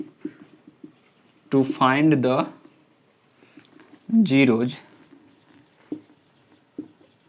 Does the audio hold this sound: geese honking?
no